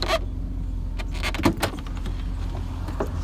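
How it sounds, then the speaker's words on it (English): A truck door is opened and its power window rolls, a steady low motor hum with clunks and light rattles near the middle, recorded close and fairly loud. "Opening up the door and rolling the window."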